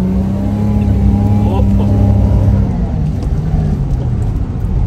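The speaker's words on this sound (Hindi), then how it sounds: "गियर पे गियर चेंज किए जा रहे हैं भाई" A car engine near Sealine Beach in Qatar revs loudly and steadily through repeated gear changes, its droning pitch shifting as each gear engages.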